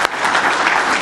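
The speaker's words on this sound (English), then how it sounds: "And so that deserves a round of applause for doing that." A brief, dense burst of audience applause at a business roundtable event, loud and continuous from start to end.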